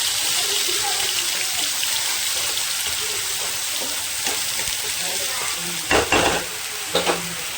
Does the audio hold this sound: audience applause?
no